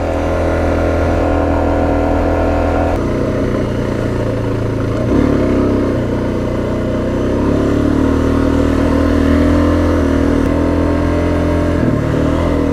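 A Suzuki DRZ400 dual sport motorcycle ridden on a gated mountain road, its engine droning loud and steady up close, with the pitch rising and falling through gear changes and throttle shifts, no voices over it.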